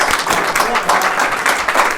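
An audience at a fundraising dinner applauds the event's chairman with brisk, fairly loud clapping that runs steadily, with voices mixed in among the claps.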